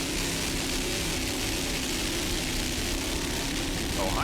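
A helicopter drones steadily overhead while filming an offshore powerboat race at the 1995 Palm Beach Grand Prix, its engine and rotor noise a constant loud wash with the boats' roar blended in.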